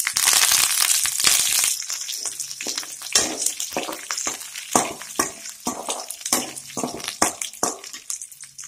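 Mustard seeds spluttering in hot oil in a pan while cooking Indian gooseberry rice, a dense crackle that gives way to irregular sharp pops, near and fairly loud.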